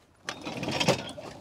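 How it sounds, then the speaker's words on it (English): A ratchet strap holding down a car is released with a quick mechanical clicking and rattle. The sound is close and moderately loud and lasts about a second. "so I guess we'll undo the strap."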